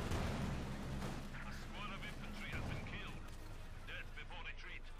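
An artillery barrage in Company of Heroes 2 booms as a low continuous rumble of distant shell impacts under a commentator's voice talking throughout.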